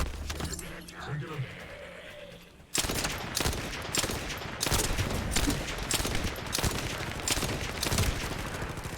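Gunfire in a video game, a dense run of rapid shots that starts sharply after a quieter opening and keeps going loud and close to the end.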